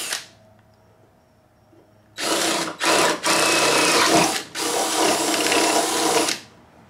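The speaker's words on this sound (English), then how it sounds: "If you get jammed up drilling through metal, you can just go backwards with the drill" Power drill boring through metal on a 1990 Miata during a hood lift kit install, several loud whirring bursts with short pauses between them, close by, no talk.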